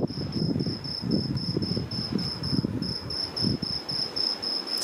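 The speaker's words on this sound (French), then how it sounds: "Au son des grillons et de la mer." Crickets chirp at night beside the sea in Alexandria, Egypt, with a rapid, regular high trill pulsing close and clear over a low, murmuring wash of surf in the background.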